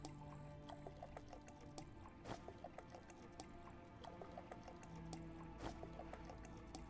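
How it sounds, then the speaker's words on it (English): Watery dripping and squishing from Osiris: New Dawn, a sci-fi survival game, a run of small liquid drips and gurgles repeating under a steady low background hum. "I love how it makes a water sound."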